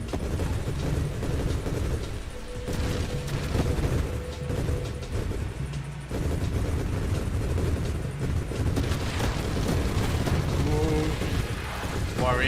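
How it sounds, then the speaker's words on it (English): Many explosions in the space shooter Nova Drift with a blast-radius build, dense overlapping booms and crackling bursts going continuously while a player talks over the gameplay. "So many explosions."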